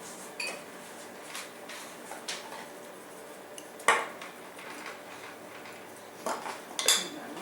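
Basil, garlic, salt and pepper get stirred in a bowl with a utensil, giving soft scraping with sharper clinks and knocks against the bowl at irregular moments, fairly quiet and close.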